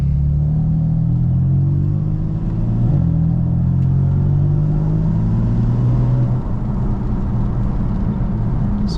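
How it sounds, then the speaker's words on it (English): A Stage 1 tuned BMW M4's engine drones steadily while driving on a rainy day, a deep low rumble that rises and settles slightly as it accelerates, heard from inside. "So just pure engine sounds,"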